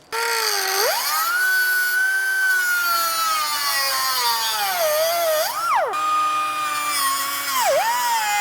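An angle grinder cutting disc trims metal during a suspension installation, a loud continuous whine that sweeps up and down in pitch as it bites, briefly dropping before spinning back up.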